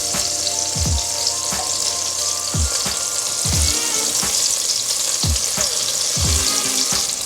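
Garlic fries in a pan while cooking tofu and pork, giving a constant close crackling sizzle punctuated by several sharp clanks of a utensil against the pan, with no voices.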